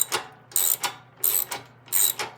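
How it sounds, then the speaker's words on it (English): Ratchet wrench tightening a self-locking nut on the drive train of a 33-inch Snapper mower: three quick bursts of sharp ratcheting clicks, close and fairly loud, with a steady low hum underneath. "We'll snug them back up. It is a self-locking nut"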